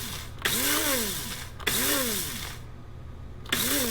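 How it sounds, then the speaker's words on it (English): An electric spice grinder pulsing rosemary leaves in three short bursts, each one a whirring motor rising and falling in pitch, with quiet gaps between the bursts. "We're going to pour them in our spice grinder. We're going to set it on the larger setting here. And go ahead and turn it on."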